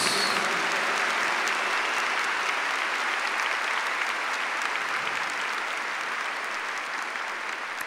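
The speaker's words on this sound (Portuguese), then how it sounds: "Aplauda a palavra de Deus." A church congregation applauds steadily at a camp Mass, a dense, even wash of clapping that holds for the full stretch with no voices breaking through.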